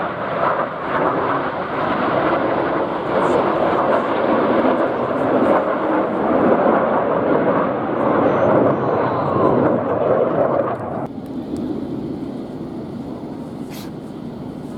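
Display team jets at the Midlands Air Fest roar past in a loud, sustained broadband rush that holds steady and then drops to a lower, quieter rumble near the end, with wind buffeting the microphone.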